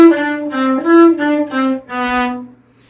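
Cello plays the ornamented figure from Marcello's Allegro as a short bowed phrase of about six sustained notes, clear and close with no other sounds.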